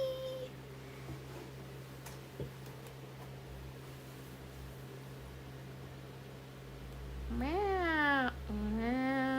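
A cat meows twice near the end, loud and close, with rising and falling cries against a quiet hum; a faint voice is heard early on.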